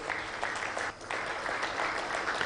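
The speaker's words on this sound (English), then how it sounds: "Can you all recognize them with a round of applause?" Steady audience applause at a formal international investment conference in Tanzania, a dense, even wash of many hands clapping that holds throughout, briefly dipping once before carrying on at full strength.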